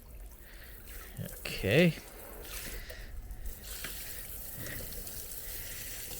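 Tap water runs in a soft, steady stream to rinse ants off a surface in a hotel tent villa cabin, with a louder splash partway through and a person speaking briefly over it.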